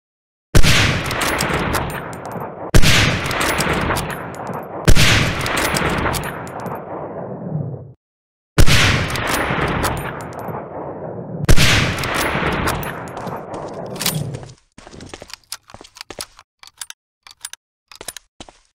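Springfield 03 sniper rifle shots fire in the Medal of Honor: Allied Assault basic training range, five loud sharp cracks at spaced intervals, each trailing off, followed by quieter scattered clicks and ticks.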